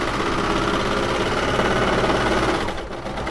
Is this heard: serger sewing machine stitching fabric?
yes